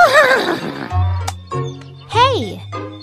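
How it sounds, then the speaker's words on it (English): Several horse neighs and whinnies, loud and close, each a rising then falling squeal that trails off; a voice speaks briefly between the calls. "Horse."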